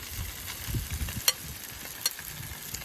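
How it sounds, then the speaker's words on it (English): Mushrooms, onions and rice fried together in a pan, a quiet, steady sizzle under soft stirring scrapes, with a couple of sharp utensil clicks against the pan. "Now, we make this into fried rice."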